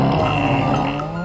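An aquarium toy dugong lets out a fart-like noise when its belly is pressed, a buzzy, tonal blurt lasting about a second amid busy indoor aquarium ambience at SEA LIFE Sydney Aquarium.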